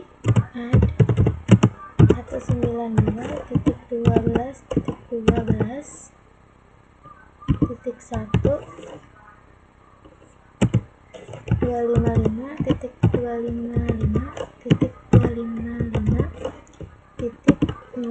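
Fingers typing a Cisco IP address command on a computer keyboard, in quick clattering bursts of keystrokes separated by short pauses, close and clear.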